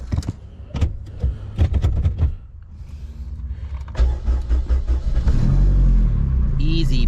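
A neglected Honda Civic wagon cranks with a choppy, rhythmic churn, then catches and settles into a steady low engine rumble close by.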